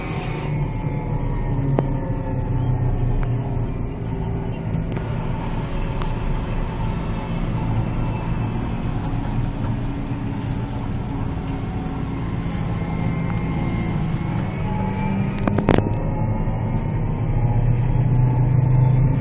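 A New Holland T7.210 tractor engine runs at full throttle, a steady loud drone with constant low rumble and slight mechanical whine that swells toward the end, with no talk.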